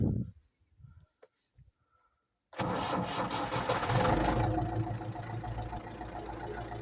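After a few quiet clicks and knocks, an MTZ-82 tractor engine cranks and bursts to life, then runs with a loud, steady rumbling clatter.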